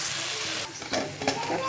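Masala for a mushroom kadai curry frying in oil in a pan while being stirred, a close steady sizzle with soft scraping strokes and small crackling bursts from the spoon.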